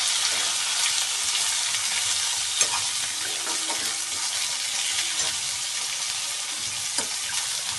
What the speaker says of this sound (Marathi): आणि आता घेवडा टाकणार आहोत आणि ते आता आपण हलवून घेणार आहोत